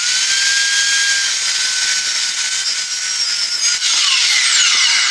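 A loud saw cuts steadily through a metal stair handrail in a fabrication shop, giving a continuous high whine and grinding scream throughout with no pauses.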